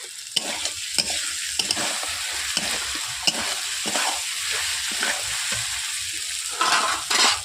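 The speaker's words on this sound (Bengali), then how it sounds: "দিয়ে দিচ্ছি পনির দিয়ে আমি 1 থেকে 2 মিনিট আমি এইভাবে নেড়ে নিচ্ছি" Paneer fries in a pan while being stirred, a loud, close sizzle broken by repeated scraping strokes of a spatula at a steady rhythm, with no talking.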